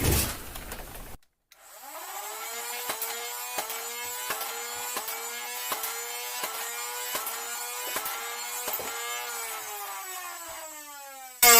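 A Nerf-style blaster fitted with Daybreak flywheels whirs up and fires foam darts from a Stampede magazine, about nine sharp shots at a steady, evenly spaced rhythm over the loud motor whine, close and with no speech.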